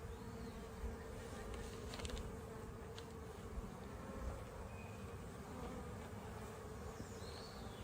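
Honey bees buzz steadily around a beehive entrance, a dense, continuous hum from many insects close by, with occasional louder passes, and no talking.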